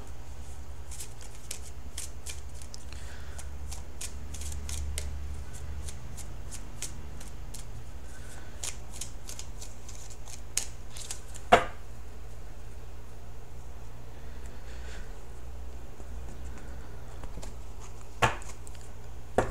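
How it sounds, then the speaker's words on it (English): Tarot cards shuffled by hand in a long series of quick soft riffles and flicks, close and quiet, with a few sharper snaps as cards are pulled. "So let me pull the outcome card."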